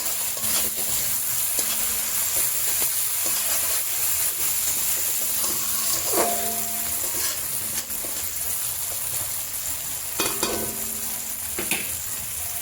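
Spices sizzle steadily in a frying pan for a pabda fish curry, a dense continuous hiss broken by occasional scraping stirs and crackles, close and loud with no talk.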